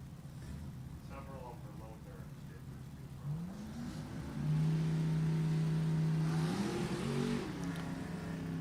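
Mustang drag race car launching at a March drag race event, its engine rising into a loud sustained roar that builds and shifts pitch, with an announcer talking over the strip noise.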